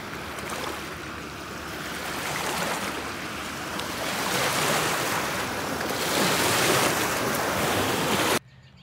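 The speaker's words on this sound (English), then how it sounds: "these waves are coming in fast and strong" Strong ocean surf crashes and rolls onto a beach, a loud, continuous wash of breaking waves that builds steadily with wind buffeting the microphone, then cuts off abruptly near the end.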